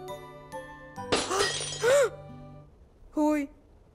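Crash of a china tea set breaking, a bright burst of shattering porcelain amid a sitcom scene, with voices and musical tones around the smash.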